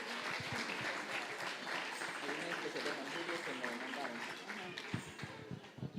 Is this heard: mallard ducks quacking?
no